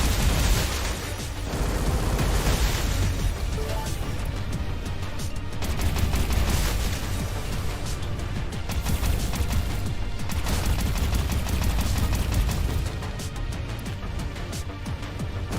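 Synchro pulse energy weapon firing continuously in the space combat game Everspace 2, a dense, rapid rattle of blasts and booms sustained for about thirteen seconds before easing.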